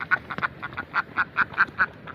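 A single duck quacks in a steady run of about ten short, evenly spaced calls, close and clear, on a farm where a pregnant Black Bengal goat is kept.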